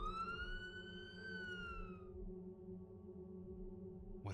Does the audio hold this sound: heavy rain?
no